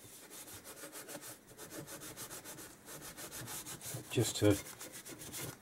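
Red Scotch-Brite pad scrubbing the finned outer casing of a Kawasaki KZ1000 engine during cleaning, a steady rhythmic rasping rub close by, with a brief louder burst near the end and a few words spoken.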